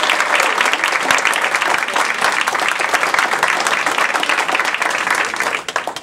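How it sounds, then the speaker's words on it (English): Sustained, loud applause from an audience at a Toastmasters humorous speech contest, dense clapping filling the whole stretch and tapering slightly at the end. "Let's give our Toastmaster a round of applause."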